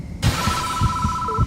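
A telephone rings in the horror video game Death Mark, a steady electronic tone sounding loud and close, accompanied by low pulsing, throbbing ambience underneath.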